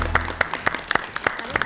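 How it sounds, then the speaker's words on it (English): An audience at a televised children's talent competition claps in a short, moderate burst of applause with distinct individual claps. "Give her a clap."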